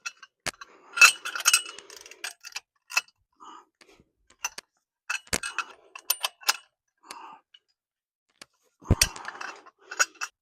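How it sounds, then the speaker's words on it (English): Lug nuts and axle nut being loosened on a 2017 Chevy Silverado, scattered clicking and ratcheting bursts with sharp metallic snaps and short quiet gaps, close and alone. "What I like to do first is loosen up the lug nuts and the axle nut."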